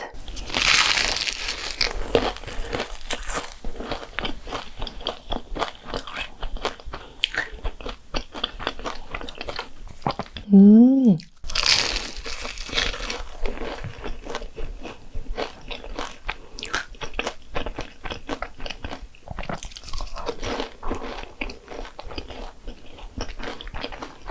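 Someone bites and chews KFC egg tarts and other egg tart desserts up close, with crisp flaky pastry crunches in irregular bursts, a brief rustle of packaging midway, and soft mouth sounds between bites.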